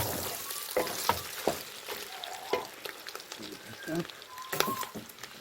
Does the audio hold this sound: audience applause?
no